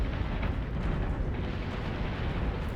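A Cylon basestar is destroyed in the Battlestar Galactica Deadlock space combat game, heard as a continuous, dense rumbling explosion at steady loudness with no talk over it.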